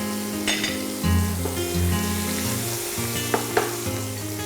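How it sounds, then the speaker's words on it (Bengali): Rohu fish pieces lightly frying in oil in a pan, a soft steady sizzle with a couple of brief spatters and a low background hum, no voices. "জাস্ট দুটো পাশ আমি হালকা করে ভেজে নিচ্ছি।"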